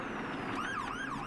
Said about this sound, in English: So they'll run their siren to let them know.